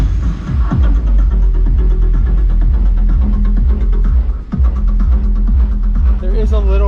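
Heavy subwoofer bass booming from a 2023 Honda Civic Type R, heard from outside the car: loud, continuous low-end throbbing with rhythmic pulses, music muffled through the body, slightly distorted.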